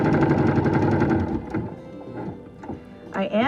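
A sewing machine stitching thread through a scrapbook page, a rapid buzzing run at first that slows into scattered stitches, with a few quiet pauses in between.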